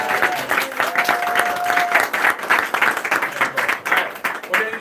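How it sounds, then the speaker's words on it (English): An audience at an Andrew Yang campaign canvass kickoff breaks into lively applause, dense clapping rising and falling in waves, with voices calling out over it. "give Elise a round of applause"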